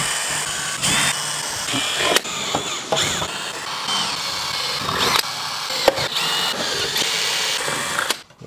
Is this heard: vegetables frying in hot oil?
no